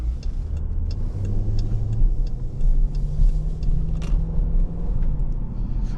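A 2024 Dodge Durango R/T drives along an open road, its engine drone rising in pitch and then dropping as the gears shift, with a steady road rumble underneath and no talk.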